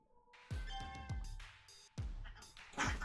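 A house cat meows repeatedly close by, with several drawn-out calls and brief pauses between them, alone with no talking.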